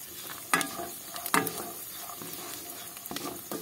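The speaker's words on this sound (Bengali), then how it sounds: "এইগুলোকে একটু ঘি দিয়ে ভেজে নিচ্ছি।" Nuts and raisins fry in ghee in a pan. A soft sizzle runs underneath three or four sharper scraping stirs, spaced unevenly and heard close up.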